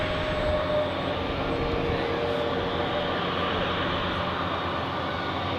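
Etihad Boeing 787 airliner arriving from Boston, heard as a continuous broad roar of jet engines that holds steady and loud throughout, with no talk over it.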